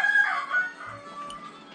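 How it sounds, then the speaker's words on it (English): Chickens cluck and a rooster crows nearby in a short, fairly loud burst that fades to softer clucking. "she's watching those chickens"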